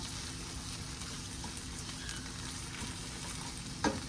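Food fries steadily in a pan with a soft continuous sizzle, broken near the end by a brief clatter as it is flipped.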